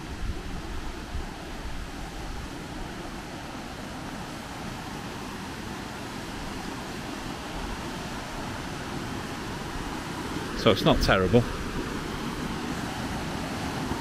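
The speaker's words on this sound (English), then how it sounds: "Get a bit of waterfall noise now." Steady broadband rush of a waterfall fills the whole stretch, continuous and even, with someone speaking briefly near the end over it.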